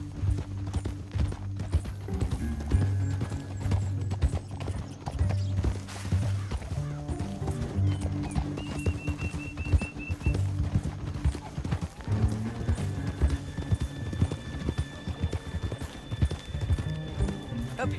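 Horses galloping in Red Dead Redemption 2, a steady rapid clip-clop of hooves with an occasional whinny and creaking tack, continuous and close, running under game dialogue.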